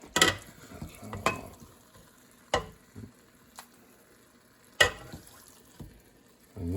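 Cooked dirty rice is stirred and fluffed in a hot, faintly sizzling pan, with scattered spoon scrapes and knocks against the metal over a quiet crackle.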